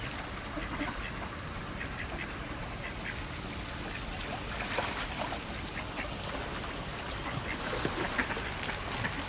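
Ducks quack repeatedly at a garden pond, the calls scattered and moderately close over a steady outdoor background of water and ambient noise, with no talking.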